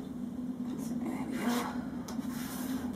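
Scissors cutting through fabric strips for a sewn bookmark, a soft continuous rasping snip close by, alone with no talking.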